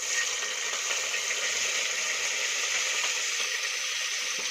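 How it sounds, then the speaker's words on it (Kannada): Onions frying in a pan for menthya rice bath give an even, dense sizzling hiss that holds steady throughout, close and fairly loud, with no voices. "ಈಗ ಈರುಳ್ಳಿನ ಸೇರಿಸ್ತೀನಿ."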